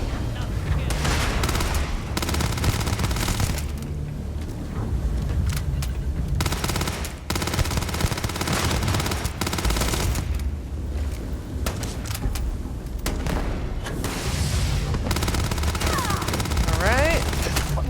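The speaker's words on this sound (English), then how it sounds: "Sounds like a turret somewhere." Starfield turret gunfire as continuous rapid automatic bursts under a loud, busy combat soundscape with occasional speech, the firing steady and fairly prominent throughout.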